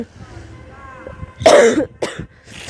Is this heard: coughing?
yes